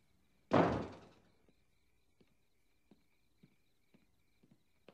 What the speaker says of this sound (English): You didn't close the door on your way in, Robert. Don't make the same mistake on your way out